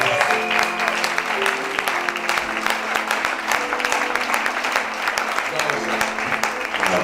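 A congregation applauds the Lord at a church gathering, steady loud clapping over music with voices mixed in throughout.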